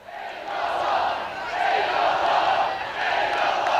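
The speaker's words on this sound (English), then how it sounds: "And listen to that crowd." Football crowd at the Bendigo senior grand final between Sandhurst and Eaglehawk, a loud, sustained roar of cheering and shouting that surges and dips slightly over a few seconds.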